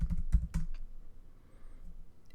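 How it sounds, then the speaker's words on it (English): Quick, close keystrokes on a computer keyboard enter a username and password, a short cluster of clicks followed by quieter scattered taps in a faint room. "I'll go ahead and log in by typing in my username and password."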